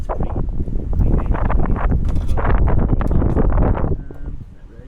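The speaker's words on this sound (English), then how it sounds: "It is really windy today, and it's going to rain soon." Strong, gusty outdoor wind buffets the microphone in a continuous loud roar that eases slightly at the end.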